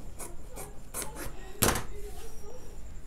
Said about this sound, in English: I'm going to trim this up to be triangular shape.